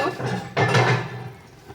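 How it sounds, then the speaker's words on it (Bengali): A lid set down on a cooking pot of fish gives one close, sharp clatter that rings briefly and then fades. "তো আমি ঢাকনাতে ঢেকে দিব"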